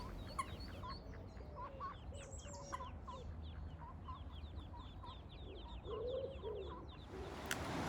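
Soft, repeated bird calls and peeps from ducks and ducklings on a canal chatter over a low outdoor rumble, with small quacking and cheeping sounds scattered throughout.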